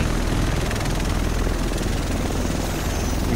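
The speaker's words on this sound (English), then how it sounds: "Here it comes. The rest of us should be in this chopper." A helicopter arrives in the video game The Division, its loud, continuous rotor chop and engine roar filling the scene at close range, steady throughout with no talking.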